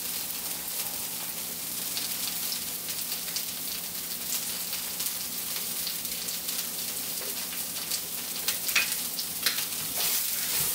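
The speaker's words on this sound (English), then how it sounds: "Break it up in little pieces, swirl it around the oil, it's gonna sizzle a bit." Steady sizzling of crumbled soyrizo frying in oil, a dense crackle that holds throughout with a few sharper pops near the end.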